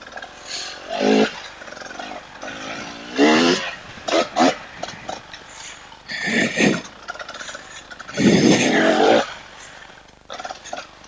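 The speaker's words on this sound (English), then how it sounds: "Two-stroke, it just likes to lug, and then it'll still just pull out of it and rev." A 2024 KTM 300 TBI two-stroke hard-enduro dirt bike lugs and revs through snow on an off-road trail, repeated rising bursts of engine noise separated by quieter idling stretches, close and loud.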